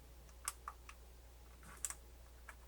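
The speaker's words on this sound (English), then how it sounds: "Hear some noises, but no display. Click, click, click, click, click." A MiniDisc player's internal mechanism gives a handful of faint, sharp clicks at uneven intervals, close and quiet against a low steady hum.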